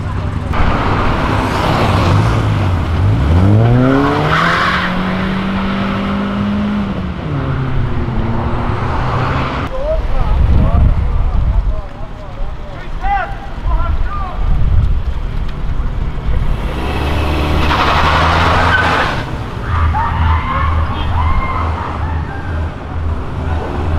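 A Toyota Hilux 4x4 pickup with a turbocharged CVT drifts past while leaving a car event, its engine rising and falling under heavy wind noise and continuous excited talk.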